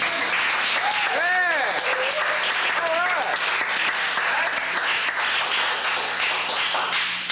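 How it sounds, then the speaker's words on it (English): Studio audience applause and cheering welcoming a comedian portraying Tennessee Williams onstage, a steady loud wash of clapping throughout with a few whistles rising over it. "With a round of applause, would you please welcome the genius, Tenessee Williams"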